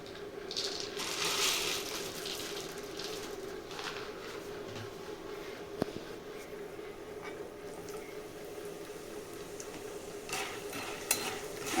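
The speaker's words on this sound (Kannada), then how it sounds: "ಇದು ಸ್ವಲ್ಪ ಟೈಮ್ ತೊಗೊಳುತ್ತೆ ಫ್ರೈ ಆಗೋದಕ್ಕೆ." Peanuts frying in a pan for an avarebele mixture, a steady low sizzle with occasional scraping stirs and a sharp tap or clink, close but fairly quiet.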